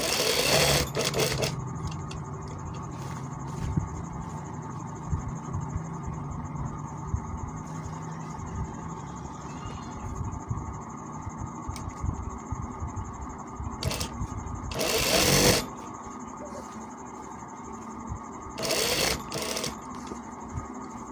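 Sewing machine stitching seams on a kameez, a steady close running hum through most of the stretch, punctuated by a few louder sharp bursts.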